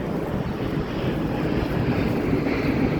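A steady low roar of an airplane passing overhead, blended with wind buffeting the microphone, with no talking.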